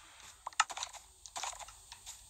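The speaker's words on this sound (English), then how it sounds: "I am playing on keyboard and mouse." Keys clatter on a computer keyboard during a Minecraft-style game session, in quick irregular bursts of close, quiet clicks separated by short pauses.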